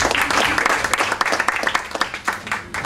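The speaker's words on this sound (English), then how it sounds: "An applause for Debbie, please" An audience at a panel session on peer-to-peer accommodation and the future of travel applauds a speaker, a brief burst of dense clapping from a roomful of people.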